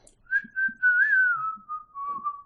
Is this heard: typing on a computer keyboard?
no